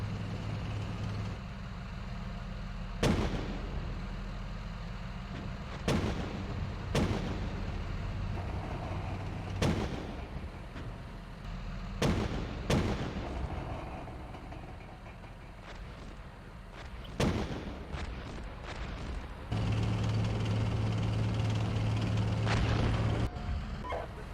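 Incoming fire in the Steel Beasts Pro PE tank simulator: sharp, loud cracks and impacts strike at irregular intervals every few seconds over a constant low engine drone.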